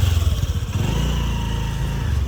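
A motorcycle engine idles and runs close by at a house in the Sri Lankan hills, a steady loud throbbing putter that pulses slightly at first, with no talk.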